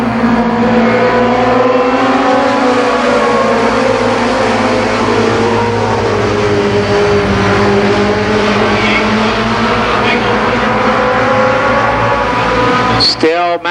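Race cars at speed on an oval, ARCA Pro 4 class at Columbus Motor Speedway in 1990, a steady loud engine drone with droning harmonics filling the whole stretch, and commentary running over it.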